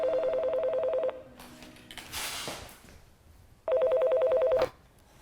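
A telephone rings in a film scene, two bursts of rapid electronic trilling separated by a gap filled with softer rustling and a short noisy swell.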